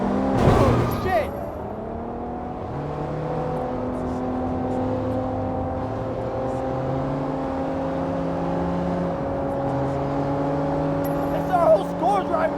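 Getaway car in the video game Sleeping Dogs driving off, a steady engine drone with a rising whir holding for several seconds after a brief loud burst at the start, with music underneath.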